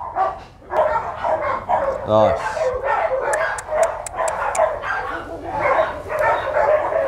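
H'mong bobtail dogs in Bac Ha, Vietnam, barking and yipping in short bursts, close and loud, mixed with whimpers while people talk over them.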